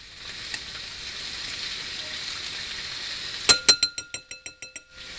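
Beef and broccoli in teriyaki sauce sizzle softly in a pan while being stirred, then a utensil taps the pan rim in a quick run of about eight clinks that fade out.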